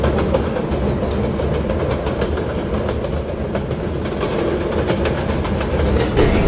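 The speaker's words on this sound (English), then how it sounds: "Manhattanbound Express train approaching the station." An R142A subway express train bound for Manhattan rolls into a station with a continuous heavy rumble and rapid wheel clatter, loud and even throughout.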